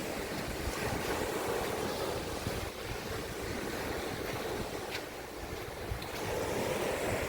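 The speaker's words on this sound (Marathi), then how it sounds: "गाज आहे का समुद्राची" Sea waves roar onto Shiroda beach in the Konkan, a white-sand shore. The surf is a continuous broad rush with wind buffeting the microphone, and no voices are heard.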